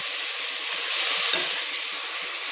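Mint and coriander leaves sizzle steadily in hot oil inside a pressure cooker for chicken biryani, a loud continuous frying hiss with a brief stir in the middle.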